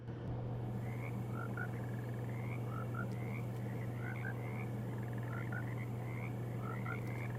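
Frogs croak continuously in a swampy outdoor area of the video game Alone in the Dark, many short rising chirps and croaks repeating steadily over a constant low hum of ambience.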